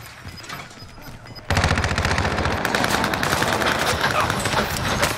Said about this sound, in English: Someone is firing on me.